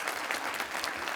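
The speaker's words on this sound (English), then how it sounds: "Let's give her a round of applause" Audience at a Springfield Rotary Club event applauds an honorable mention recipient, a steady wash of clapping from many hands filling the short moment without a break.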